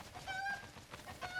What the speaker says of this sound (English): there's these things that look like chickens. They're called cuckoos.